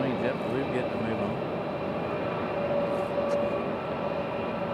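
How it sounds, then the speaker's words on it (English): A JetBlue Airbus A320 begins to taxi at Raleigh-Durham airport, a faint, steady engine whine and low rumble carrying from a distance without any sharp change. "Our A320 JetBlue getting to move"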